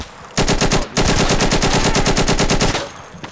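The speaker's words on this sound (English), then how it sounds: "I'm on heavy fire." Heavy automatic gunfire in the shooter game Insurgency, a loud rapid burst of evenly spaced shots, briefly pausing, then resuming in a long sustained stream close up.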